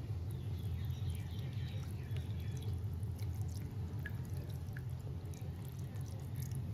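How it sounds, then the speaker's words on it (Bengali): Cold water is poured into drained chhena, making a soft, steady trickle with faint scattered drips over a low background hum. There is no talk. "এরপর আমি এর ভেতর দেবো একটু ঠান্ডা জল।"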